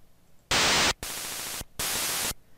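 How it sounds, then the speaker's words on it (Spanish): The noise channel of an NES sound chip, played through FamiTracker, gives three loud bursts of harsh white-noise static separated by brief silences. "si yo no lo utilizo, se escuchará ruido blanco"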